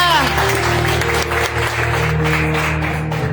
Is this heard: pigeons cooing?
no